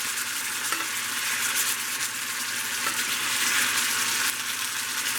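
Bone-in prime rib sizzles steadily in a pan while being basted with butter, olive oil and cracked pepper, a loud, continuous frying hiss with faint spoon clicks.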